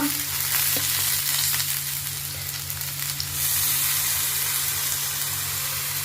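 Potatoes and soaked flattened rice sizzle steadily in a hot pan with bay leaf, a continuous loud frying hiss with occasional stirring scrapes and no talking.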